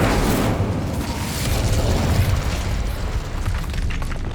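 The Incendio fire spell is cast in Hogwarts Legacy on PC, producing a loud, sustained roaring whoosh of flame with a deep rumbling body that fills the whole moment without speech.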